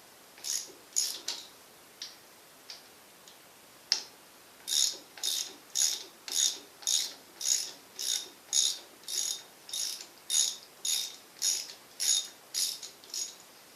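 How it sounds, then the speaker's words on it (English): A ratchet wrench loosens the 3/4-inch-head implement bolts on a Gravely Model L tractor: scattered clicks, then a run of regular, close ratcheting strokes in a steady rhythm. "So I get out my ratchet."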